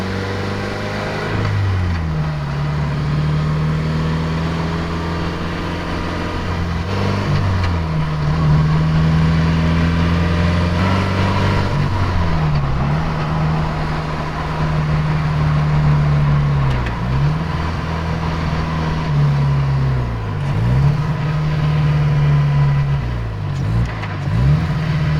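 A car being driven to test its automatic transmission after a fluid change: a loud, steady engine drone rises in pitch and drops back several times as gears shift, heard from inside the cabin without talk.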